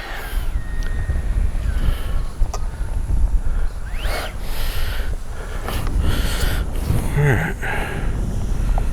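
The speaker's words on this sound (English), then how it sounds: "the wind is so strong" Strong wind buffets the microphone at an RC jet speed trial, a constant low roar with gusty swells, some faint higher tones drifting in and out.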